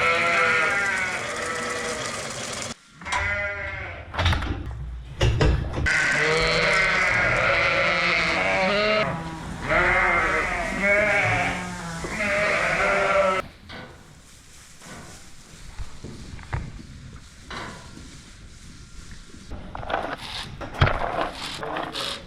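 Sheep bleat repeatedly and loudly in a lambing shed, overlapping calls for the first half, then thinning to scattered quieter bleats with shuffling and knocks.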